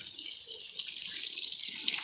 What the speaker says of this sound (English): I need to water my bougainvillea here.